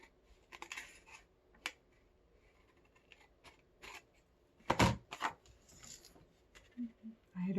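Hand scissors snip a paper border in sparse, crisp cuts, close and quiet, with small rustles of paper between the snips.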